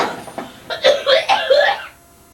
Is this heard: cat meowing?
no